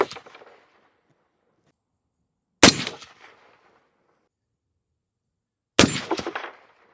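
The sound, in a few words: suppressed POF Revolution .308 rifle shots, 180 grain bullets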